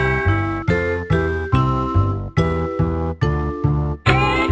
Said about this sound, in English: When the doorbell rings